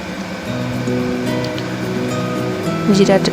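Cumin seeds crackle and sizzle steadily in hot oil in a pan, a dense continuous frying hiss, close and fairly loud, growing slightly busier toward the end.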